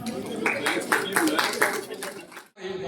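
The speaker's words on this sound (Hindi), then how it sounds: "जोरदार तालियों के साथ" Clapping at a monthly meeting of a seniors' club, a short burst of rhythmic hand claps from a gathered crowd mixed with voices, ending abruptly before a different sound begins.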